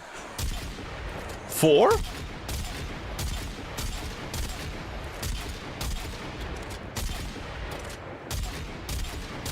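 Rapid bursts of gunfire from a Kuva weapon in Warframe, each shot drawing four rounds, crack repeatedly in a steady rhythm, with a voice speaking briefly over the shooting.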